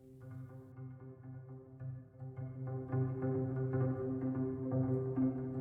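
A dense, steady cluster of soft plucked string notes, layered and continuous, gradually swelling a little in volume without pauses.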